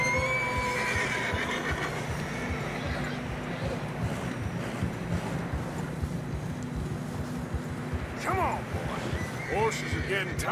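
Horses in the Red Dead Redemption 2 video game whinny and move along a narrow trail, neighs rising near the end over a steady bed of hoof and ambient noise, with someone talking throughout.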